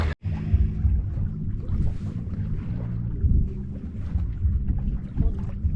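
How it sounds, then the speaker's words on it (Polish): Sixty-year-old Omega cabin sailboat moving over water, a steady low rumble of hull and water with wind noise, continuous and fairly close, no voices. "O wiele płynniej się płynie taką łódką."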